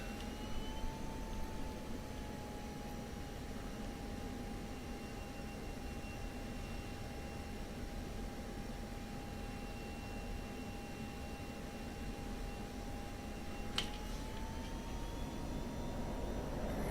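A jet aircraft in the combat flight simulator DCS taxis and prepares for takeoff, a steady engine roar with a high whining tone that holds level and then rises slightly near the end, with no talking.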